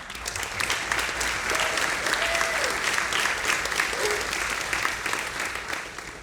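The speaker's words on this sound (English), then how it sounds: "And let's give a big round of applause," Sustained applause from an audience at a Producers Guild of America VR event, a dense, loud wash of clapping from many hands, with faint voices or cheers within the crowd.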